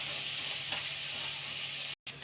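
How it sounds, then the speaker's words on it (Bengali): Chopped green chili, onion and garlic fry in hot oil, a steady close sizzle that cuts out briefly near the end before resuming. "এখন দিয়ে দিছি কাঁচামরিচ পেঁয়াজ রসুন কুচি।"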